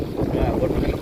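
Steady wind rushes over open water beside a small fishing boat under overcast skies, a continuous low buffeting roar with no break.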